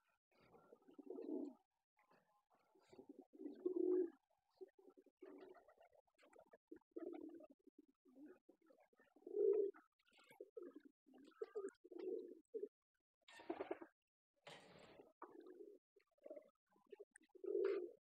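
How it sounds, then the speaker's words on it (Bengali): Pigeons on a pigeon farm coo at midday feeding time, soft throaty calls repeating in short rhythmic bursts close by, with quiet gaps between them and no talking. "এই যে কবুতর"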